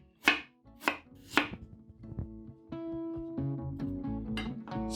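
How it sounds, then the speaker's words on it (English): A knife slicing a small piece of ginger on a cutting board for a brown rice and chickpea pilau, three crisp, distinct cuts up close, followed by softer background music and clinking. "Slice this."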